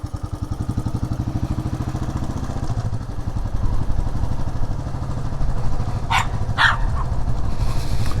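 A Royal Enfield 535 Fury single-cylinder motorcycle thumps steadily up close, and near the end two sharp dog barks ring out over the engine in Suffolk countryside.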